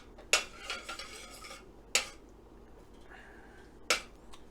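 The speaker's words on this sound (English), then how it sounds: "I'll just give it a quick stir to encourage the melting process" A utensil clinks sharply against a pan three times, with spaced metallic knocks between soft scraping, as melting butter is stirred into homemade buffalo sauce over medium-high heat; the sounds are close and fairly quiet, with no talk.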